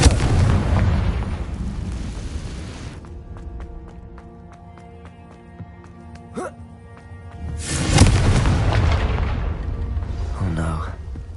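A Confringo blasting spell goes off in Hogwarts Legacy, a loud roaring burst with rumbling blast noise, a quieter stretch with a sharp crack, then another heavy explosive roar; speech is mixed in.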